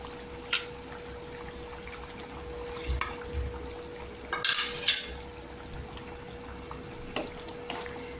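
Eggs are added to simmering egg curry masala in a pot over a low flame, making a few scattered clinks and soft wet plops over a faint steady background hum, close and fairly quiet.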